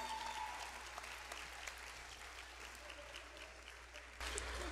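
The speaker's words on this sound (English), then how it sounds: "Give yourself a round of applause." Graduating class of 2022 at a UDC Law School hooding ceremony breaking into sustained applause from a large indoor crowd, steady clapping throughout that swells louder near the end.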